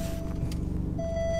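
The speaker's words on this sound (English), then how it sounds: "Sorry about that bleeping. That's the seatbelt, by the way." A single steady tone of the seatbelt warning chime sounds inside an Alfa Romeo Giulia Quadrifoglio running in race mode. It cuts out briefly and resumes over a low engine idle rumble.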